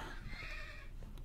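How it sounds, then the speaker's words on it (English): A Minecraft horse neighs in a long, wavering whinny that fills the clip, loud and close over dense game background sound, with no speech. "Oh my god, I hear a fucking horse."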